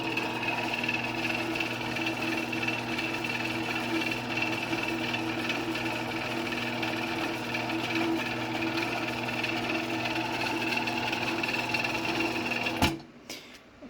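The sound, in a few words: chain drive garage door opener running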